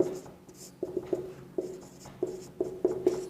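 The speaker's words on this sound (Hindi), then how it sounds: "तो अपन यहां लिख देंगे" A pen writes by hand during a class 7 maths integer exercise, tapping and scratching in short irregular strokes, close but quiet against faint room noise.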